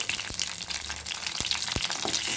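Ingredients for tomato mint chutney frying in oil on a low flame, a close, continuous sizzle with a few soft spatula knocks against the pan.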